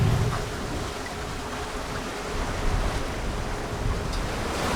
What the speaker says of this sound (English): I don't think we realised how windy it would be out here.